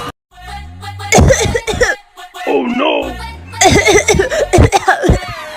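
A woman coughs in harsh bursts, with other voices talking and reacting around her.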